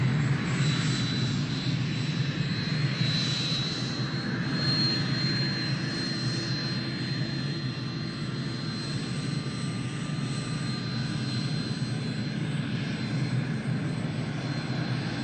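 Delta airliner jet engines roar steadily at takeoff, a loud continuous whine and rumble with a high-pitched tone holding throughout, no pauses.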